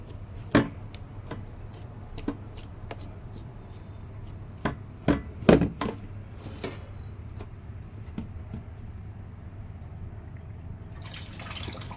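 A knife thinly slices onion on a cutting board, with crisp, irregular chops landing sharp and close, in clusters with pauses between, and no talking.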